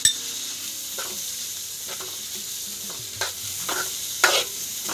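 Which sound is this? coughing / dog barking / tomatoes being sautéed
tomatoes being sautéed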